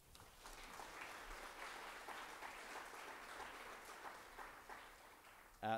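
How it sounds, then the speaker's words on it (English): A crowd applauds steadily from a distance at a public assembly, a dense patter of clapping that carries on, then a brief louder sound at the end. "Please give her a round of applause."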